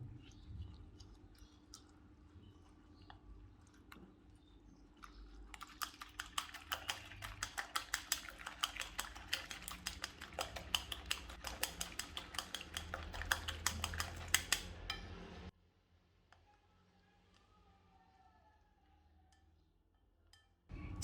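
A whisk beats eggs with milk, salt and white pepper in a bowl, giving fast, rhythmic clinking taps for about ten seconds before they stop abruptly, with no talking.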